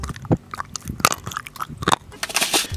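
Someone bites and chews crunchy food close to the mic in a car, with a few sharp crunches spaced out and then a rougher, rustling burst at the end.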